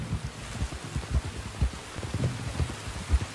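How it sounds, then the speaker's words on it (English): Rain falling in the video game Red Dead Redemption 2, a steady soft patter with scattered heavier drops, fairly faint and continuous, no talk. "You were right about the damn rain."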